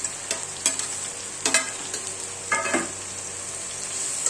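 Chopped onions and green chillies fry in a pan with curry leaves, giving a steady sizzle broken by several sharp stirring scrapes, close and moderately loud, with no talking.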